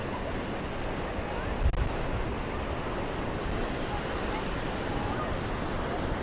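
Ocean surf at Boa Viagem beach in Recife rolls in as a constant broadband wash mixed with wind noise on the microphone, with one brief thump partway through.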